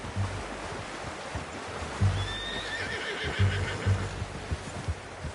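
In the Red Dead Redemption 2 video game, a horse whinnies once over soft hoof clops and a low wash of ambient surf-like noise, fairly quiet and with no talking.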